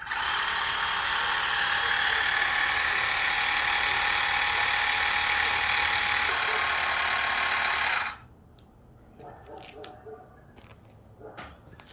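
A battery-powered A&M Moto Toys tire pump buzzes steadily at close range for about eight seconds as it inflates a tire to 20 psi, then cuts off, leaving faint handling clicks.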